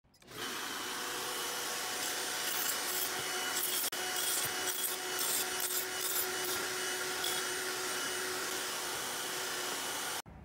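A panto-trimmer machining a wooden workpiece with a dust collector attached, giving a steady, loud, continuous whir and rasp of cutting with the collector's suction roar, running uninterrupted to an abrupt stop at the end.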